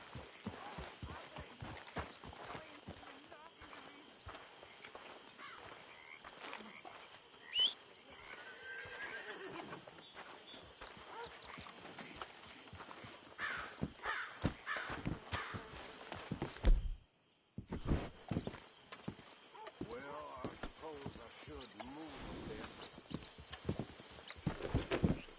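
Horse hooves clip-clopping in Red Dead Redemption 2, near and rhythmic, mixed with neighing and whinnying, a sharp break of silence partway through, then hoofbeats again.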